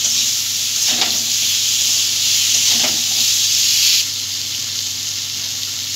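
Hilsa fish heads being stirred and mixed in a hot pan with spices, a bright steady sizzle with two soft scraping strokes, the hiss dropping a little near the end.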